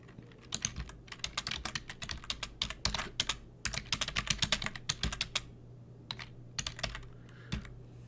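Notes are typed into a CRM record on a computer keyboard, a steady close patter of keystrokes in bursts with short pauses, over a faint constant hum and no talk.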